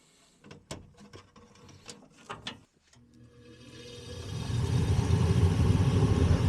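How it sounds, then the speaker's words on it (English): A few scattered clicks and rattles come from a Comfort Maker furnace with a failed igniter, then its induction fan spins up into a steady, loud whooshing roar that keeps building. "there's our induction fan going, proving we got a vacuum"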